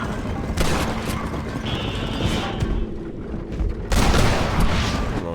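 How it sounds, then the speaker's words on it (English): Gunfire in Red Dead Redemption during a chase: a dense, loud fusillade of rapid shots and booming cracks, nearly continuous across the stretch. "I don't know who I just shot with the first bullet."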